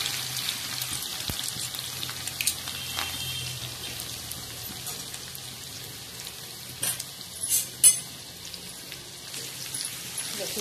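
Garlic sizzles in hot oil with mustard seeds, cumin and asafoetida for a tempering, a steady fine crackle with a few louder pops and spatters toward the end, close and fairly quiet.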